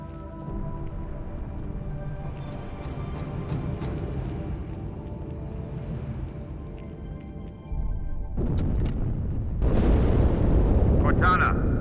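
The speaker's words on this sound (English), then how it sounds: "That explosion came from inside the Athens." In a Halo 2 cutscene, an explosion goes off inside the ship Athens. Deep rumbling builds into two heavy booming blasts with a sustained roar over a constant low background.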